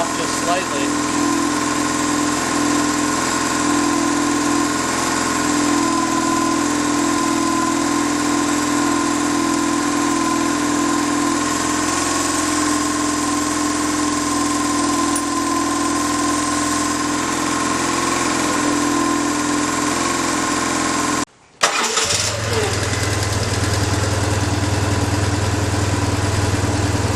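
A BMW R motorcycle engine idles steadily and close by with a constant throb during carburettor adjustment. A brief cutout near the end is followed by a deeper, rougher hum.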